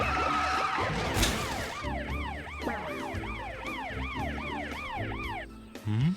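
A loud wailing emergency siren in a children's police car cartoon cycles up and down repeatedly and steadily, close by, with an engine rumbling underneath.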